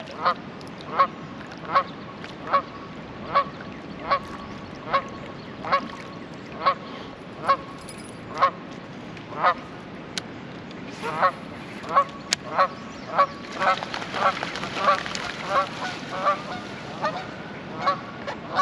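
A goose on a small island in a lake honks repeatedly in a steady rhythm, loud and fairly near, the calls speeding into a rapid cluster toward the end, with no talking.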